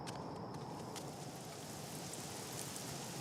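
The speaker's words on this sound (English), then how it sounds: "And there's rain." Rain in the video game Submerged, a soft, steady wash of falling rain with faint scattered drop ticks, quiet and continuous with no talking.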